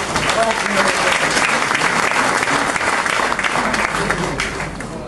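Dense, sustained applause from an audience at a Haji Mohammad Mohsin College alumni gathering in Chattogram, loud and steady from start to finish, with a faint murmur of voices in the crowd.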